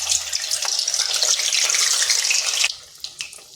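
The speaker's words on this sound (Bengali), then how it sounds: "এখানে তেলটা গরম হতে দিয়েছি, গরম হয়ে গেছে। এরপরে এগুলো দিয়ে দিচ্ছি।" Carrot sweets slid into hot oil give a loud, even hiss and sizzle close by for a few seconds, then drop to quieter crackles and pops.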